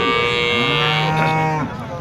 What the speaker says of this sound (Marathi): एक शेतकऱ्याची गाय बरं का